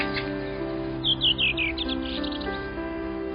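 Winter-visiting thrushes, seen in large berry-eating flocks, give a short run of high chirping calls over a steady low background hum, several quick notes clustered together before tapering off.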